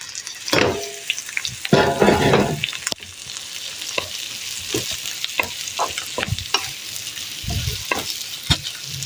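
Bitter gourd stir-fried with fried onions in a pan, loud sizzling broken by repeated scraping stir strokes, with a few dense bursts of spatula-on-pan scraping early and sharper knocks of the utensil later.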